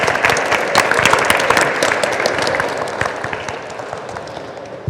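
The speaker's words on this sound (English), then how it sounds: "please give a round of applause for Daniel Masenga-Grant" A conference audience gives a steady round of applause for a speaker before his talk on net-zero manufacturing, dense and even clapping throughout, no voices over it.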